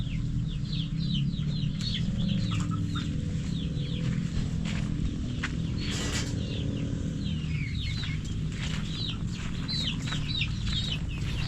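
Hens cluck and chirp in short bursts throughout, with a steady low farmyard hum underneath and no talking.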